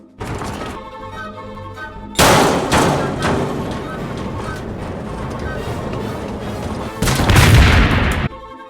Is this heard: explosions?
yes